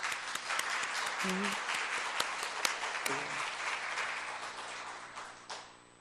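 A church congregation at a Sunday evening service applauds, a dense, steady wash of clapping that tapers off near the end, with a few brief voices mixed in.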